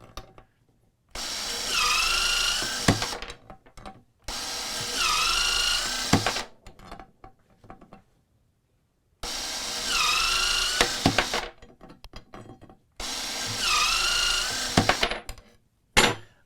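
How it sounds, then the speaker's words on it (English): Dewalt DCS350B 20V cordless threaded rod cutter slicing through threaded rod, four loud motor runs of about two seconds each ending in a sharp snap of the cut, with quiet gaps between. "So you just lay your rod in here and you just cut."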